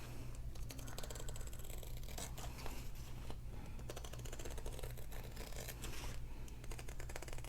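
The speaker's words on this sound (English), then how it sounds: "So I'm just going to cut it around." Scissors snip steadily around the edge of a diamond painting canvas, a continuous close scratchy cutting and rustling texture over a low steady hum, with no voices.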